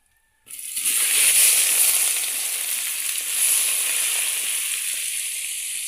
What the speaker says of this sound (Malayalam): ഇതിലേക്ക് നമ്മൾ അരിഞ്ഞു വെച്ച സവാള ഇനി ഇടുകയാണ്.